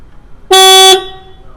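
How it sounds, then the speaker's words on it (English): A single loud electronic tone from a VW A3 car alarm as the ignition key is turned on, sounding for about half a second, steady and close, then cutting off with a brief fading ring. "the alarm will beep"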